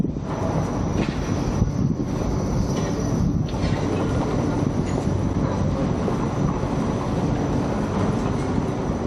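A Toronto streetcar rolls past on a city street under its overhead power wires, a loud, steady rumble of wheels on rail with faint squeals, close by and continuous, with no talk.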